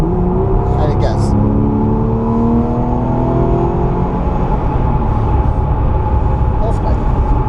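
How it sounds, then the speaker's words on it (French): A car accelerates at Le Mans, a loud, continuous engine roar heard from inside, with rising engine tones sweeping upward throughout and no break in the noise. "C'est la première fois que je fais accélérer cette voiture quand même."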